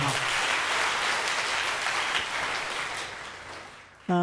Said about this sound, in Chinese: 我们鼓掌欢迎他们